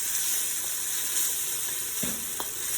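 Steady loud sizzling of food stir frying in a hot wok, with a couple of faint scrapes near the end.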